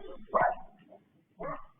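A puppy barks twice, a sharp yap near the start and another a second later, with small whimpery sounds between them, close by and fairly quiet, with no talking over the barks.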